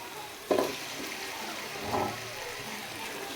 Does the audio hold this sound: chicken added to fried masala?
yes